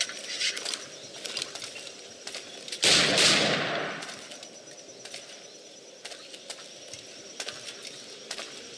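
A single gunshot from a flintlock-era firearm in Assassin's Creed IV, a loud sharp blast followed by a decaying echo, set against faint ambient background with no talk.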